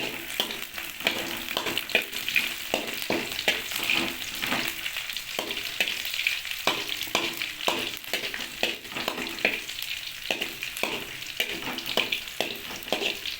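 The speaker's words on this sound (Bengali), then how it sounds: "একটু নেড়ে নিতে হবে" Bay leaves and cloves fry in oil in a pan for a chicken liver dish, with a constant crackling sizzle and frequent light scrapes from stirring, close up and without speech.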